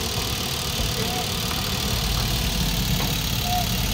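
A Suzuki DA17V with a turbo engine idles with a steady, even low rumble and a faint whine, heard up close without interruption.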